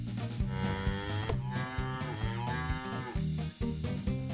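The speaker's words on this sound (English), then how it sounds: "Cow." A cow moos over a steady, busy musical backing, the low drawn-out call blending with rhythmic music throughout.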